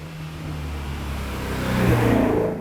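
A Ford Shelby Mustang GT350 with a 6-speed revs loudly up close, a steady mid-pitched engine roar that climbs and swells toward the end.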